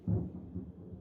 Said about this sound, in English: We have a thunderstorm.